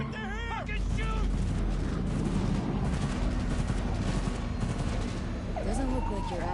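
Gunfire in the video game Cyberpunk, rapid bursts and shots running continuously alongside a siren-like whine and shouting voices.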